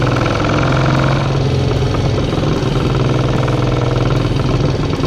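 A 1967 Triumph Mountain Cub motorcycle engine running loud and close, a steady buzzing drone with a constant throb and no pauses, alone without talk.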